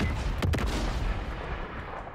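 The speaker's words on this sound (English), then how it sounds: "Stand by for artillery." Artillery fire in the Modern Warfare 3 video game: a couple of sharp, close blasts open the clip and fade into a rumbling, continuous low roar of explosions and battlefield noise with no talk.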